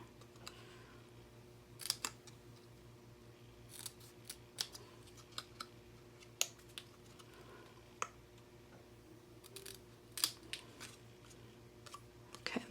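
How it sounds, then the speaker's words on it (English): Scissors cutting paper for a handmade greeting card, a series of quiet, crisp snips scattered irregularly close by over a low room hum, with no talk. "But I'll just do this with my scissors since I have my scissors handy."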